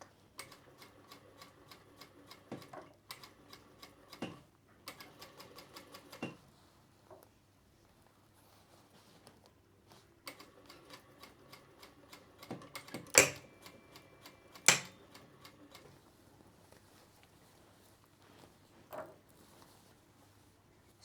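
A sewing machine stitches a seam on an evening dress in short bursts of quiet, rapid mechanical ticking, separated by pauses and a few sharp clicks, close and soft with no speech.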